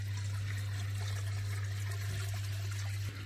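Water runs steadily from the waterfall feature of an Artesian Island Range hot tub spa, a continuous soft rushing trickle over a low pump hum, even and uninterrupted throughout.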